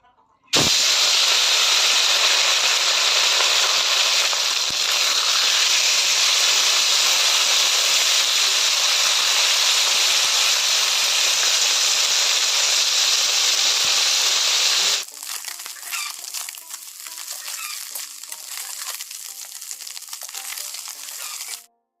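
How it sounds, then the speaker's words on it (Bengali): Turmeric- and salt-rubbed fish fries in hot oil in a pan, a loud continuous crackling sizzle that drops abruptly to a quieter spitting fry for the final stretch. "এখন কিন্তু মাছটা ভেজে নিব আর লবণ হলুদ মাখিয়ে নিয়েছি"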